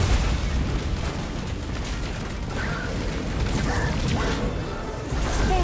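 Missile blasts in the Destiny 2 Forsaken campaign rumble through a dense battle din, with deep booms and crackling bursts rolling one after another.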